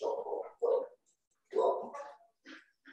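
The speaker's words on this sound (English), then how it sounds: "tell that dog to shut up" A dog barks in short bursts in the background of a workshop conversation, several separate barks and yips at moderate distance.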